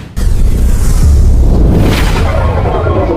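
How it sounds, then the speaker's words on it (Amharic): A loud, sustained explosive boom from a movie scene in which a blast sends a train off its tracks, rolling and rumbling for several seconds with no voices. "ፍንዳታው ሲከሰት ባቡሩ ከሀዲዱ ወጥቶ ይጋጫል"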